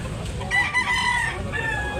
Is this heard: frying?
no